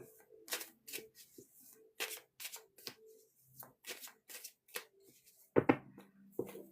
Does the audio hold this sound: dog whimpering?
no